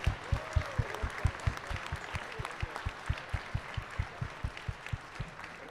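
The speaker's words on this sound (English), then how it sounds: "Let's have one more round of applause for every team that competed today" An audience at a FIRST Tech Challenge robotics qualifier in Finger Lakes, New York, applauds the competing teams with steady clapping, while a strong, regular low thumping beat runs underneath throughout.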